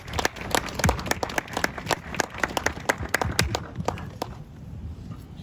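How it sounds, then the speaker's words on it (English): Scattered clapping from a small crowd at an evening vigil, a brisk patter of hand claps that thins out and fades toward the end, with no talk over it. "Give her a round of applause."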